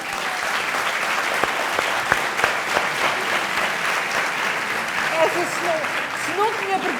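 Sustained audience applause at a Portuguese TV news conference event, a dense continuous clapping with a few sharper claps standing out and faint voices and whoops mixed in.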